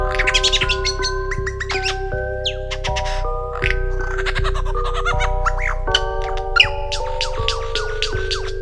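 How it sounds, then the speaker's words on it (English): A lyrebird sings a rapid, varied run of chirps, whistles and squeaky notes, loud and continuous over steady background music. "Lyrebird."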